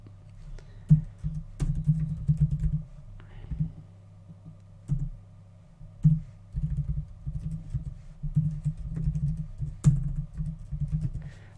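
Fast, steady typing on a computer keyboard, close and clear, with brief pauses between bursts of keystrokes and no talk.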